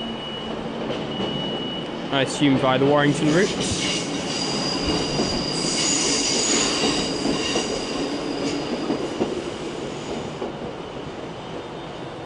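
A diesel multiple-unit train, a class 150 bound for Liverpool Lime Street, rolls through Manchester Piccadilly station with a steady rumble and a brief high wheel squeal, while someone talks nearby.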